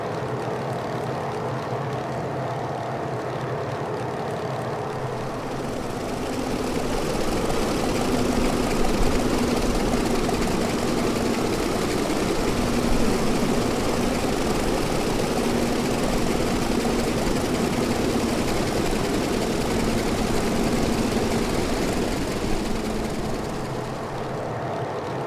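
Radial engine of a Grumman F3F biplane drones steadily in a climb in Microsoft Flight Simulator, a loud, continuous low rumble with a faint rhythmic pulsing that swells slightly after the first few seconds and holds alone.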